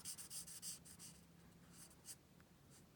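A marker pen colouring on a card, its narrow nib scratching in quick repeated strokes that are loudest at the start, then lighter scribbles alone with no talk.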